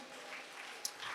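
A church congregation applauds during a prayer and fasting service, giving a brief, even wash of clapping at moderate volume.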